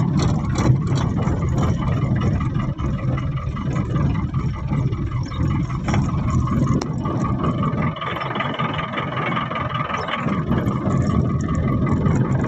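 A diesel vehicle engine runs steadily while driving slowly around, a loud close low rumble that holds constant with slight swells in pitch and no voices.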